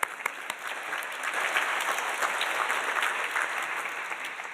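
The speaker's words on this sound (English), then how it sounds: "that's worthy of applause." An audience at a school's annual address breaks into applause, clapping starting with a few sharp claps and swelling into a steady, even patter that holds for several seconds at moderate distance.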